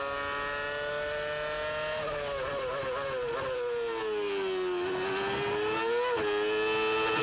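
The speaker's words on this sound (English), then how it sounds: "Really low revs, taking the gear up very early in the corner." A 2006 Formula 1 car at the British Grand Prix at Silverstone is short shifting at low revs, its engine droning loud and steady. The pitch dips and climbs through early gear changes as the car passes through a corner, with no commentary over it.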